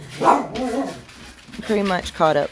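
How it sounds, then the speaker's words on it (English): Dogs bark a few times in the background, short yaps sounding under and between a man's speech. "Hold on, excuse my dogs."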